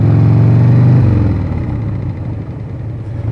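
A 1998 Harley-Davidson Sportster with an air-cooled Evo engine running nearby, a loud low throbbing rumble that eases off after the first second into a steadier, lighter idle.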